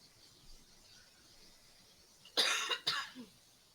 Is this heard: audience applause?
no